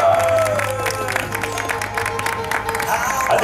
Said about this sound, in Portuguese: Uma salva de palmas, galera.